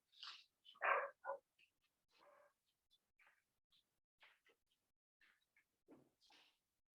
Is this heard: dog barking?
yes